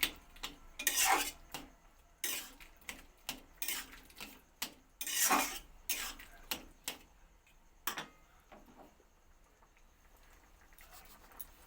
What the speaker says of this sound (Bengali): আলুগুলোকে একটু খুঁটি দিয়ে কেটে নেবো এমনি করে